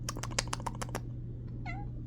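A house cat meows once, a short rising-falling cry near the end, after several quick clicks of computer keyboard typing, with a steady low hum underneath.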